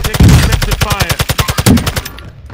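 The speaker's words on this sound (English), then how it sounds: "Taking effective fire." Automatic gunfire in the video game Call of Duty, a loud rapid string of shots that slows into spaced bursts before cutting off, with some radio-style chatter mixed in.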